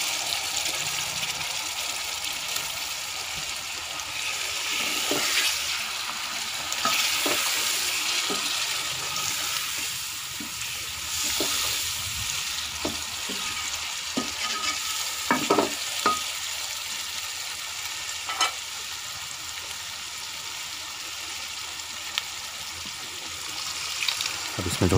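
Tomatoes added to cauliflower and peas fry in a pan, a continuous close sizzle broken by repeated scraping and clinking of stirring, steady and moderately loud throughout.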